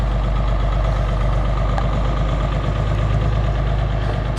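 A 560 diesel tractor engine idles steadily up close, a low, even chugging rumble with no break and no voices.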